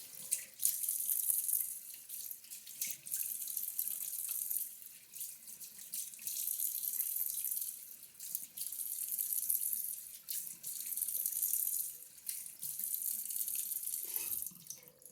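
Tap water runs steadily into a sink while a face is washed, the hissing flow broken by brief pauses and splashes, close and fairly quiet.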